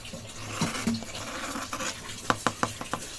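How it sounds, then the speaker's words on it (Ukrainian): Freshly baked pure rye bread just out of the oven, its crisp crust giving a few faint, sharp crackles and taps in quick succession in a quiet kitchen. "Послухайте тільки, яка хрустка в нього скориночка"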